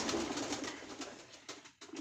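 Pigeons in a loft with a pair of young squabs coo close by in a steady, overlapping murmur, with brief flutters and shuffles near the end.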